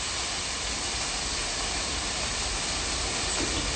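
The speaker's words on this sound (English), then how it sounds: "You can hear the sizzle." Steady broadband sizzling hiss of pastor-style SPAM frying in a hot pan, continuous and fairly loud throughout with no voices.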